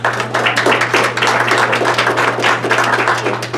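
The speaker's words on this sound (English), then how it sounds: "So give yourselves a round of applause" An audience applauds at a Mansfield, Ohio law director's debate in 2015, with dense, steady clapping that holds at full strength throughout over a low electrical hum.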